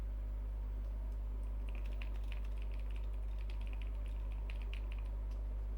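Keys on a computer keyboard tap in a quick, uneven burst of light clicks over a steady low electrical hum, faint and close, with no voices.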